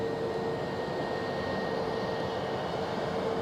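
A British Airways A321 jet departs Edinburgh Airport, heard as a steady, fairly faint and distant engine roar with a thin whine running through it.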